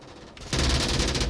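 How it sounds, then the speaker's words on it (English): Rapid automatic gunfire in the VR shooter Onward during a competitive match, a burst that kicks in abruptly after a quieter moment and rattles on loudly and steadily to the end. "Gunshots are being fired."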